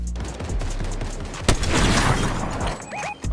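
Sniper rifle fire in Fortnite during a busy match: one sharp, loud crack stands out amid dense, continuous game noise and scattered smaller effects, with a couple of faint chirping tones near the end.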